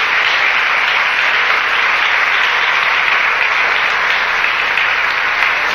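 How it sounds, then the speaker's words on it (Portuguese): A church congregation gives loud, sustained applause to the Lord, dense even clapping filling the room without break throughout. "Dá um aplauso bem forte ao Senhor Jesus."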